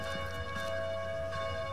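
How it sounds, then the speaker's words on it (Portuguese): A church bell rings at six o'clock in the video game Arma III, a sustained, resonant metallic tone under a low rumbling background, heard briefly without speech. "Os sinos estão batendo. Às 6 horas."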